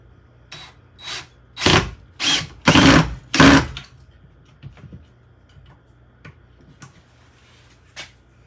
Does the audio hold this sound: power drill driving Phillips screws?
yes